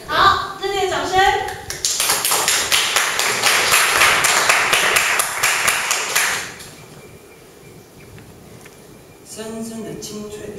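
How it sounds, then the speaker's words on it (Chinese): A small group applauds with a burst of brisk clapping lasting several seconds, with a voice speaking just before it and talk resuming after a quiet pause. "热烈的掌声"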